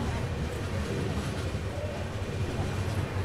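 The Balaji Express train runs into Srirangam station's platform 3, giving a steady, dense rumble of rolling wheels and carriage noise without distinct clicks.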